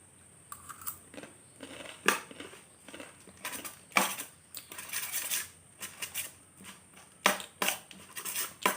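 Crisp puffed rice (muri) eaten with ripe jackfruit, heard as repeated close crunching and chewing bursts in an irregular rhythm, with no talk.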